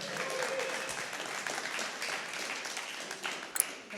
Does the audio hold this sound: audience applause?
yes